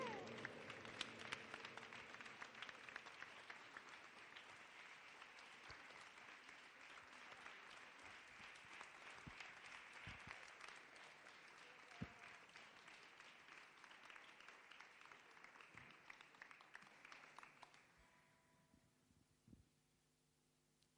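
An audience applauds steadily at a poetry event held inside the Aljafería, the clapping dense and sustained for about seventeen seconds before it thins out and fades away.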